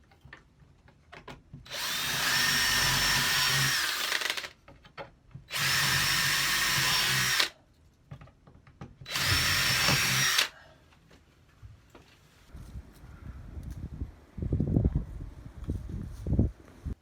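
Three loud bursts of a power drill boring into metal for a wood burning stove, each lasting a couple of seconds with short pauses between, followed by quieter clattering and handling noises.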